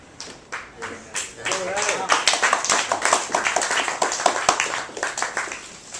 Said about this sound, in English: The clapping was for all of you who did U.S. labor against the war.